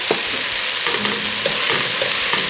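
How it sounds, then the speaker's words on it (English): Peppers being stirred into an oil-free chili sautéing in a pan: a soft, continuous sizzle broken by scattered scraping and stirring knocks, close and moderately loud. "I have about 2 cups of peppers that I will stir in here"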